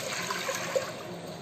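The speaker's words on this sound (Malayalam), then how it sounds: "നമ്മൾ ആദ്യം ഈ 4 ഗ്ലാസ് പാല് ഈ കുക്കറിലോട്ട് ഒഴിക്കുക" Milk poured from a glass into a pressure cooker while making Ambalappuzha-style palpayasam, a soft steady liquid trickle and splash that is fairly quiet and close.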